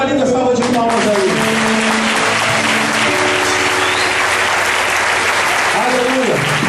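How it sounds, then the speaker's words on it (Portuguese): A church congregation bursts into loud, sustained applause, with dense clapping throughout and a voice speaking and singing over it. "dê mais uma linda salva de palmas aí."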